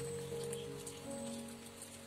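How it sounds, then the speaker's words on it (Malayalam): Steady rain falling outside a home kitchen, a soft continuous patter and hiss of drops on a surface, fairly quiet and even throughout with no talking. "പുറത്ത് നല്ല മഴയാണ്"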